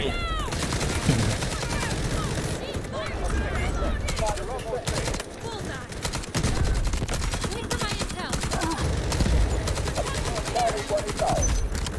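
Gunfire in the shooter Delta Force, continuous automatic bursts near and far filling the whole stretch, under a player talking throughout.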